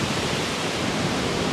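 A waterfall on a river along a hiking trail, a constant broadband roar of falling water filling the scene, steady and fairly loud with no voices.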